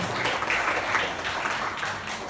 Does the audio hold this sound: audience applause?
yes